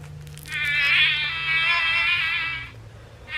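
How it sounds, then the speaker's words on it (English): A Wild Republic toy mosquito gives off a high, whining electronic buzz, sustained for about two seconds close up, then starting again briefly at the end. "Mosquito."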